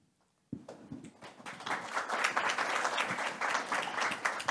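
After a moment of quiet, an audience at the launch of a book on Sun Bin's laws of war breaks into warm applause that starts suddenly and builds into steady, sustained clapping from a modest room of people.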